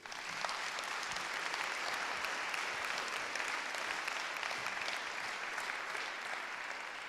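Steady applause fills a municipal council meeting for several seconds, an even crowd clapping at constant loudness with no voices over it.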